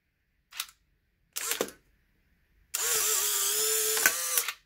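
A Polaroid SX-70 Sonar instant camera gives two short mechanical clicks of the shutter, then a steady motor whir of about two seconds as the print is ejected. Nothing else is heard in a quiet room.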